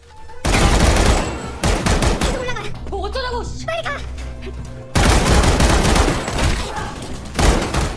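Gunfire in a film fight scene, dense loud bursts of rapid shots in two long stretches separated by a quieter middle section with voices and shouting.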